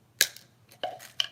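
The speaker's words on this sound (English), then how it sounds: "So I'm just going to cut that off again like that." Scissors snip off material while a homecoming mum is being made, three distinct crisp cuts spaced evenly apart, close and fairly quiet with no talking.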